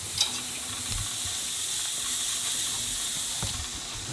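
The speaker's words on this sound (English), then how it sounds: "I just know we're gonna throw them all on there. Sear them real good." Venison backstrap sears over a hot bed of coals outdoors, giving a close, continuous hiss and sizzle with faint crackles and no talking.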